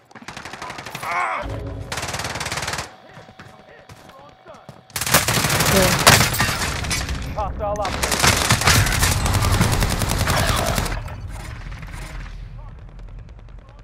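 Automatic gunfire in Call of Duty Modern Warfare: loud, sustained rapid bursts of machine-gun fire, two long stretches of dense overlapping shots separated by a quieter gap, with a brief shout and game voices under it.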